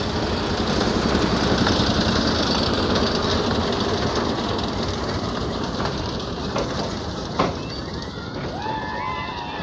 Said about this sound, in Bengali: মানে টয় ট্রেন চলছে কিন্তু ভিতরে।